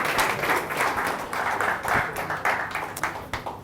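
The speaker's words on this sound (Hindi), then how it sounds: "जोरदार तालियां हो जाए" Enthusiastic audience clapping at a business training and motivation event, moderately loud and uneven, with individual claps popping out of the steady wash of hands.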